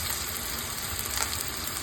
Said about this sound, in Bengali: চাপটা ভেজে নেব